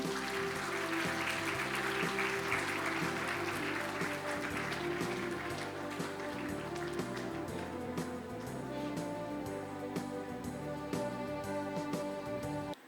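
An audience claps through a school prize distribution ceremony while music with a steady beat plays prominently underneath, the applause forming a broad hiss over the tune.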